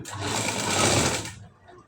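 A sewing machine stitches a high-neck blouse in a steady, close, continuous whir for over a second, then cuts off and leaves near silence.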